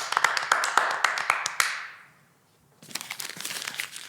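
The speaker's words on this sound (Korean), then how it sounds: "우리를 인도해 주신 하나님께 감사 찬양의 박수 올려드리겠습니다" A church congregation claps in praise, many hands in a loud, irregular burst that fades to near silence, then a second, softer round of clapping follows.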